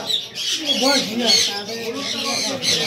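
Harsh macaw squawks ring out close by at a busy bird market, a few loud calls rising over crowd noise and talking.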